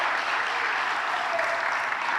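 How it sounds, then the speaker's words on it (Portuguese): A church congregation claps in steady, dense applause, a continuous wash of hands with no break across the short stretch. "E mesmo dá uma salva de palmas para o Senhor."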